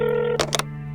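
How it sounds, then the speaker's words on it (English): A telephone gives one short electronic ring burst, two quick bright pulses over a steady hum, set in a home on a Friday evening. "Phone ringing."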